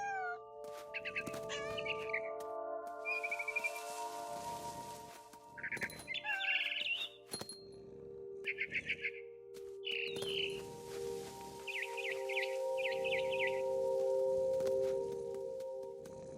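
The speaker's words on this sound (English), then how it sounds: "Then I heard chirping outside my window. It was a barn swallow going back to her nest." Barn swallow in the video game What Remains of Edith Finch, chirping near its nest outside a window in repeated quick bursts of high twittering calls, spaced across the scene over soft game ambience and low rumbling effects.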